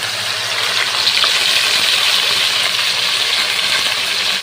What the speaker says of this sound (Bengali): ফোড়ন দেব তেজপাতা, শুকনো লঙ্কা, পেঁয়াজ আর কাঁচা লঙ্কার যে পেস্টটা আমি করে রেখেছিলাম সেটা দিয়ে দেব।